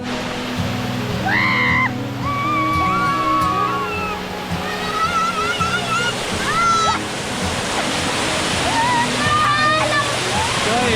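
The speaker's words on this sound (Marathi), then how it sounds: "हे बघ काय धबधबा आहे बाहेर." A steady broadband rush of falling water from a waterfall near farmland fills the whole stretch. It runs under people talking and singing, with music playing over it.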